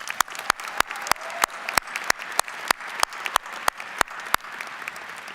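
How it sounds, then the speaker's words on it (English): Audience applause at a university commencement ceremony, with a dense, steady clapping that continues throughout, sharp separate claps standing out over the crowd, and no one speaking. "let's give them a round of applause."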